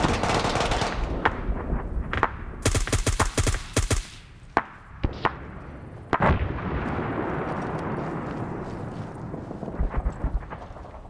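Gunfire in the video game Arma 3 during a large player-versus-player battle: bursts of rapid automatic fire, scattered single sharp shots and booming distant explosions over a constant rumbling battlefield ambience.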